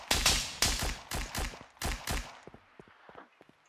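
Gunfire in the video game Miscreated: a rapid string of loud, close cracking shots in bursts, then fainter, more distant pops trailing off, with no talking.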